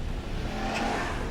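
A Ram Rebel pickup truck's V8 engine rumbles in a brief, steady, loud drone, heard up close with no talking.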